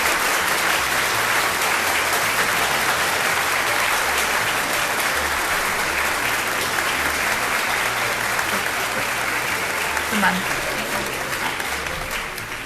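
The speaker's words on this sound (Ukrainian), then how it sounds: "Вітайте оплесками, просимо на сцену для отримання ваших подарунок" Sustained audience applause at an awards ceremony for Ukrainian film prizes, as winners are called to the stage; dense, steady clapping that fills the room for the whole stretch, then eases slightly near the end.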